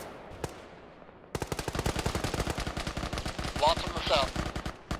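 Rapid machine-gun bursts from a technical in a tactical military video game crack out loud and close, one long rattling stream after a short quiet start, with voices talking over the gunfire.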